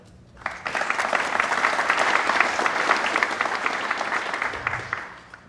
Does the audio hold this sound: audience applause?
yes